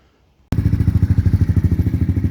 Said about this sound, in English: Okay, so bike started